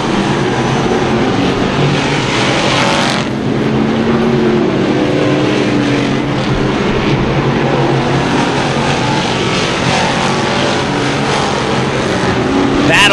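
Sportsman modified race cars roar around a speedway oval, a dense continuous engine drone heard from the stands with a commentator talking over it throughout.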